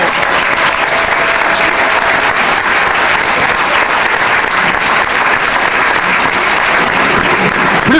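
A crowd at an outdoor nature colour-run event applauds loudly, a dense and steady wash of clapping that stays strong throughout without pause.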